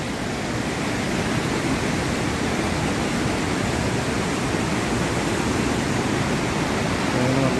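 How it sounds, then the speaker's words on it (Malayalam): Water rushing under a small bridge beside a waterfall near Kodaikanal, a loud, steady broadband roar that fills the whole stretch without letting up. "ചെറിയൊരു പാലത്തിൻ്റെ അടിയിൽ കൂടെയൊക്കെയാണ് വെള്ളം പോകുന്നത്"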